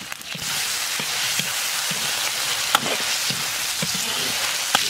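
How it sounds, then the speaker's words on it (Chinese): Pork stir-fried in oil in a wok with scallion, ginger, garlic and chili, a steady close sizzle with scattered scraping and stirring clicks of a utensil against the pan, no voices. "炒香以后下入猪肉， 猪肉上的油炒出来以后来点老抽"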